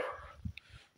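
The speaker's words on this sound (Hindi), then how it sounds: "करबो जवार से कुत्तों की आवाज़ें आ रही हैं" A dog barks once or twice at night in a village, a faint, distant yip over a quiet hissing background, brief and alone with no talk.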